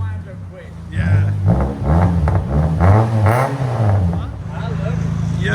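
A 1997 Saturn SL with a 1.9L engine and a Netami turbo muffler revs repeatedly, its exhaust note rising and falling in several loud, close pulls before settling back toward idle.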